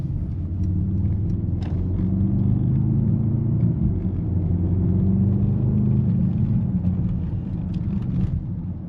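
Deep, steady Mercedes-AMG V8 engine rumble from an SUV with a throaty burble, loud and continuous, holding a low growl throughout with slight shifts in pitch.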